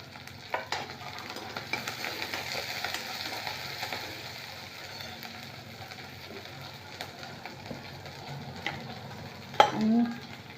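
Chili pieces and peanuts sizzle steadily in a pan, a continuous soft frying hiss with occasional stirring clinks and a louder scrape near the end.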